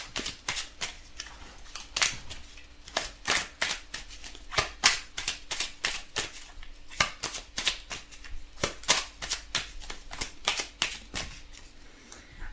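Tarot cards being shuffled and dealt for a daily reading, a steady run of crisp, close riffling snaps and slaps repeating throughout with no talk.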